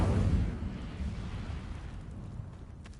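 The Incendio fire spell is cast in Hogwarts Legacy. It gives a loud whooshing, rumbling burst of flame that starts strong and slowly fades.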